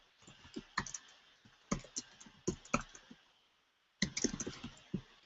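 Rapid clicking while editing a page on a computer, sharp clusters of taps in quick bursts, a brief pause, then another flurry; close and fairly quiet with no talk.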